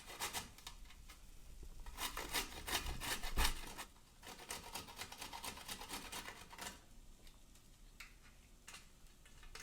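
A peeled carrot rubbed down a box grater from top to bottom, a close rapid rasping in repeated strokes that slows and thins toward the end.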